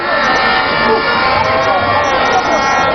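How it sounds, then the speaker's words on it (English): A large crowd at a Ghanaian political rally claps, cheers and whoops loudly and continuously as the party's national chairman climbs the stage, with voices shouting throughout. "Another round of applause for him as he climbed the stage"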